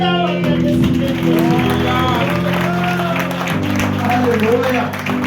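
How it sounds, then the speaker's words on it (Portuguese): A church congregation at a Sunday service applauds, a dense crowd clapping sustained beneath sustained organ or keyboard chords and a voice. "E a amada igreja, em salva de palmas, dá o agradecimento."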